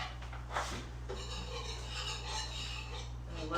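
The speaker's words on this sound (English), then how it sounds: "I will whisk that in real quick" Flour being whisked into butter for a cream sauce roux in a pan, quiet scraping and brushing strokes of a whisk with light metal contact against a low steady kitchen hum.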